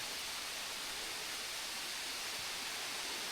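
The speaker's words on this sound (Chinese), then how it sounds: "水是从那个山洞里面流出来的。" A small waterfall with low flow pours out of a mountain cave, giving a steady, even hiss of falling water with no pauses or voices.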